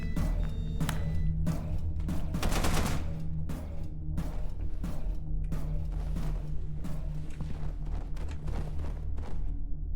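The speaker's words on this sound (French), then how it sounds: "Ah, les gars, il y a une tourelle" Rapid automatic turret gunfire in the video game Content Warning, dense bursts of shots with thumps layered over a steady low rumble, loud and close throughout with no talk.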